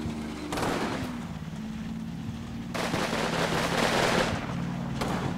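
Gunfire crackles through a WWI trench warfare video game, dense bursts of rifle and machine-gun fire in loud overlapping waves with a few heavier reports, continuous with no talking.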